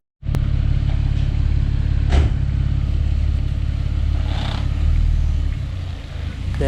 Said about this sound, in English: Moving under its own clutch power.